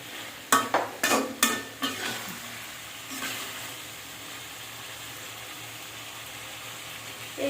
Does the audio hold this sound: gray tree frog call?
no